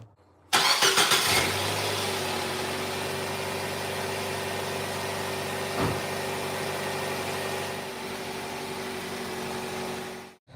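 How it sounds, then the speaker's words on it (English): A car engine cranks and catches, then settles into a steady idle with a loose muffler heat shield rattling, a metallic buzz through the rumble near the start. "there's this rattling sound. Don't worry about it, that's just a heat shield on the muffler."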